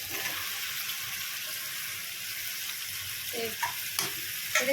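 Masala sizzles and fries steadily in oil for a taro (arbi) vegetable curry, a continuous close crackle with a few louder stirring clatters near the end.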